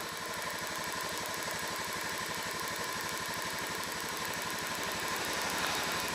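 A Honda Beat F1 scooter engine idles steadily at a constant close rumble with a fast regular pulse, alone without talk.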